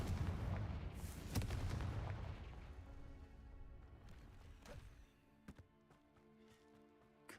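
A Confringo fire spell in the video game Hogwarts Legacy bursts in a loud, rumbling explosion that fades over several seconds, followed by a few sharp cracks and faint impacts.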